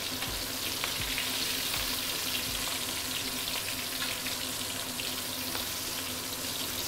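Prawns deep frying in hot oil for a salted egg cheesy prawn dish, a steady dense sizzle and bubbling crackle heard close up, continuous and unbroken, with no talking.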